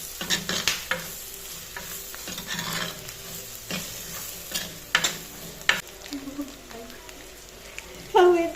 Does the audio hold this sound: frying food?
yes